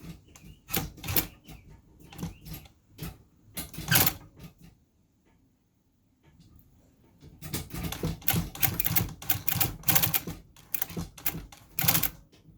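A sewing machine stitches pieces of a ballet flat in short, uneven bursts of rapid clicking, pausing briefly in the middle before resuming, close up with no speech.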